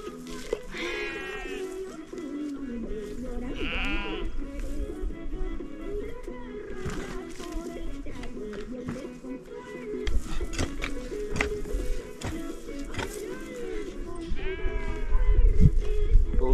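Sheep bleat repeatedly during a potato harvest, wavering calls spaced a few seconds apart over rustling and thumping field noise, fairly near, with occasional voices in the background.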